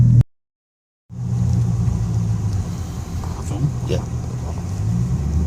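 A modified car drives past with a deep rumbling exhaust note that swells and holds close by, after a brief silence, while a voice speaks briefly over it.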